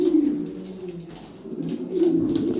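A pair of golden dal Lahori pigeons coo in low, repeated rolling calls, fairly close and steady, with a louder burst toward the end.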